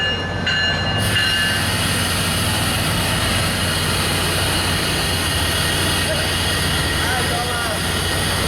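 A train rolls past at Dania Beach, Florida, with a loud, steady rumble of railcars close by and a brief horn-like tone near the start, continuing without letup.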